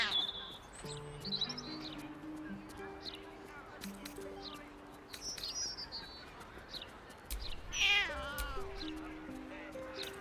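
A cat in the video game Baldur's Gate 3 gives a single drawn-out, bending meow late on, over soft sustained background music and faint bird-like chirps.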